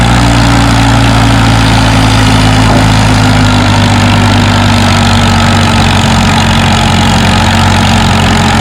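Stock-looking Farmall H tractor with wheelie bars and 11-238 tires at a spring nationals tractor pull, its loud steady engine droning low and constant throughout with no talk.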